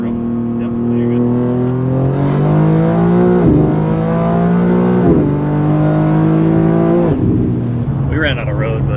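A tuned BMW G80 M3 with an S58 engine making 880 wheel horsepower accelerates hard, its loud droning engine note climbing through several quick gear shifts, heard steadily from inside the car.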